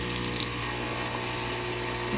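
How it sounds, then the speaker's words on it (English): A Saeco Espresso Classico espresso machine with a no-heat fault pumps hot water through its wand, a steady buzzing pump hum mixed with water flow that runs continuously without a break. "delivery of hot water."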